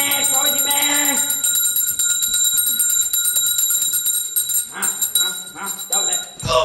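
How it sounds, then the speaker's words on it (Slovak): A small bell rings with a steady, bright, sustained metallic tone, while people talk loudly over it in a stage play. "Jaj, zvonček."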